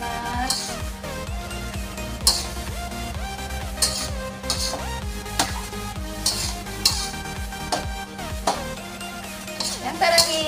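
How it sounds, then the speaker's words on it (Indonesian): Shrimp and broccoli in oyster sauce are stirred in a pan: a spatula scrapes and clinks against the metal in a steady rhythm over a constant sizzle, close and clear. "Kita aduk lagi."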